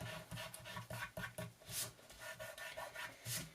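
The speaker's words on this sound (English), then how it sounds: "rubbing off the excess glue with my finger" A finger rubs excess glue off paper while decorating a weekly planner, giving soft, close, repeated rasping strokes in an uneven rhythm, with no talking.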